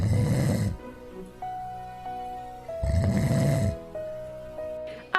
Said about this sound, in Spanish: A pierna suelta y con ronquidos tan fuertes como la sirena de una patrulla.